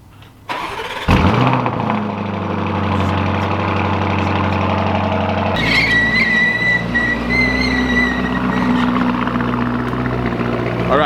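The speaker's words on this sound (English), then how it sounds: "This is gonna be a cold startup on the Lamborghini Urus" A Lamborghini Urus engine cold-starts with a sharp crank and loud flare, then settles into a steady, high idle that stays close and continuous, with a whine riding over the rumble.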